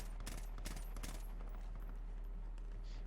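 Quiet video game gunfire in Call of Duty Warzone: several rapid automatic bursts early on, then fainter scattered shots over a low background hum.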